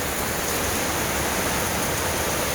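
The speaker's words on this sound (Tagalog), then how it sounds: "Pag ganito yung ulan, kaya basa ang terrace." Heavy rain pouring down outside onto a terrace, a dense, even hiss that holds steady and loud for the whole short stretch, with no voices.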